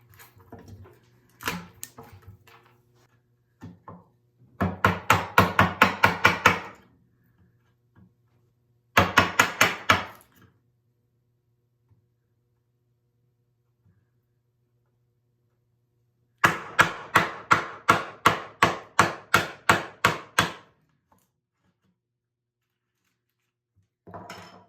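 A wooden mortise is chopped out by hand with a mallet and chisel: close, sharp, evenly spaced knocks in three bursts, with quiet gaps between them and no talking.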